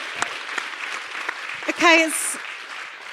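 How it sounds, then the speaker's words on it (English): An audience applauds during a live in-conversation event with an MP, a steady wash of clapping that runs throughout while a brief voice speaks over it. "we can give a round of applause for that"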